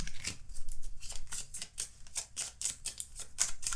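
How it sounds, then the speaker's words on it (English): Oracle cards being shuffled by hand at close range, a rapid run of crisp papery riffles and flicks repeating steadily for a few seconds, with no talking. "let's pull your oracle cards"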